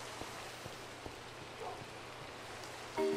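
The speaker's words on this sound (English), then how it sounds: "Sounds like it's raining" Steady rain in the video game Minecraft, a soft, even patter of drops with occasional louder taps, faint and continuous throughout, with a brief tonal blip near the end.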